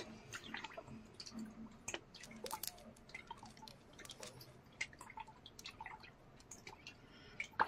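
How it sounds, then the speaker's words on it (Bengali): Fish lifted from a tidal fishing net in the Sundarbans, with scattered drips and small wet splashes and squishes over a quiet outdoor background, no talking. "মাছগুলো তুলছি এবার।"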